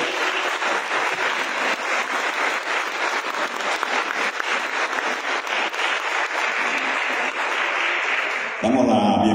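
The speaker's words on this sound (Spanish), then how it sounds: "vamos a saludar con un caluroso aplauso a nuestra máxima autoridad municipal, José Manuel Pozos Castro." Warm applause fills the hall at an official municipal ceremony in Mexico, swearing in an accident prevention council. Dense, sustained clapping from the audience carries on for most of the stretch and then stops abruptly near the end.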